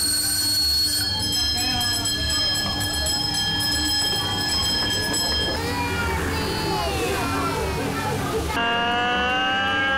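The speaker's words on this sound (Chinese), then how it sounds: "为花了2年时间才打造完成的阿里山直立式气缸蒸汽小火车做首航" A miniature Alishan steam train with vertical cylinders runs on its first trip along a street with old railway dormitories, giving a loud, steady rumble with squealing, whistle-like high tones that shift and change over ten seconds.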